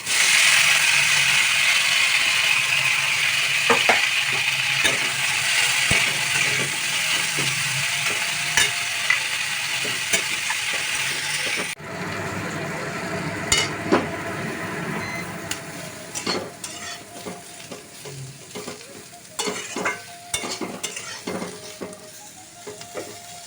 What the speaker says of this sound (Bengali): এঁচোটা একটু হালকা করে ভেজে নেব